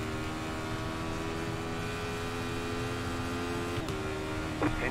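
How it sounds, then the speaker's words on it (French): Air conditioner running in a room during a sim-racing session, a steady even hum and whir that continues unbroken throughout, with a brief faint click near the end. "Ah, j'ai mis la clim, les gars."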